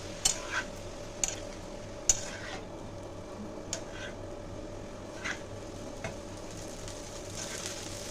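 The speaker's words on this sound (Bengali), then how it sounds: "তো এবার আবার একটু ভালো করে নাড়িয়ে দেবো" Egg chowmein with soy sauce and vinegar is stirred in a pan over a quiet, low sizzle, with scattered sharp scrapes and clicks of the utensil against the metal.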